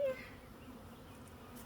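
Honey bees settling into a new beehive from a package give a faint, steady low buzzing drone that continues throughout.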